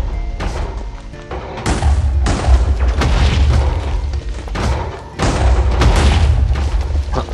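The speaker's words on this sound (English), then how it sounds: "their explosions are a bit smaller. I can demonstrate that with a Dalek." Dalek explosions in the Minecraft Dalek Mod video game, a series of loud, heavy booming blasts with deep rumbling tails, several overlapping bursts in quick succession.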